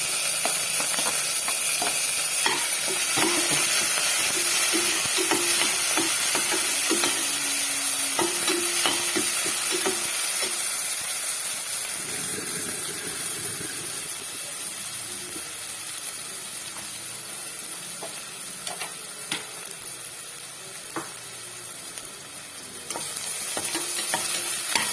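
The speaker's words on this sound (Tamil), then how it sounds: "நறுக்கி வச்சிருந்த வெங்காயம்" Chopped onions sizzle steadily in hot oil with cumin, cinnamon, bay leaf, fennel, curry leaves and green chili while a spoon scrapes and stirs the pan, with no talk.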